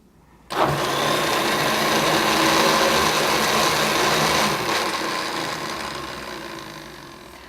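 A kitchen blender starts abruptly and grinds cooked carrots with liquid into soup, a loud steady whirring motor drone that holds for several seconds, then eases slightly in pitch and volume toward the end.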